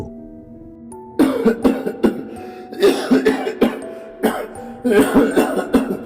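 A person in a dramatized reading of Poe's The Cask of Amontillado breaks into a harsh, hacking coughing fit: three close, loud bursts of rapid coughs after a quiet start, with no talk.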